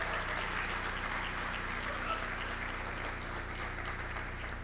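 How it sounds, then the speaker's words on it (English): An audience at a National Honor Society ceremony applauds in a steady, fairly soft wash of clapping from a distance, with a low hum running underneath. "Please give Ms. Carolyn Walling a round of applause for putting this on tonight."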